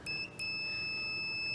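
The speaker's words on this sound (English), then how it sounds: "you want a multimeter that makes a beeping sound" A multimeter in continuity mode gives a steady, loud electronic beep that holds for the whole moment, with a brief dip and restart near the start, while checking car fuses.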